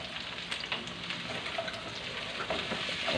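String beans fry and sizzle in oil while being stirred in a pan, a steady close crackling hiss with the scrape of stirring mixed in.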